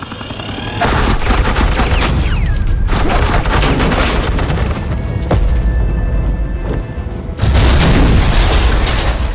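Gunfire from the game Batman: The Enemy Within: loud, continuous rattling bursts and booms that fill nearly the whole stretch, with a brief lull before an even louder final burst.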